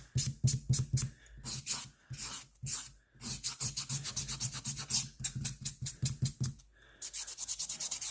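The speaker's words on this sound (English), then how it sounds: "I take my buffing black and buff this out" A buffing block rubs back and forth over freshly applied purple acrylic nails in quick, rhythmic scrubbing strokes heard up close. The strokes come in bursts separated by short pauses.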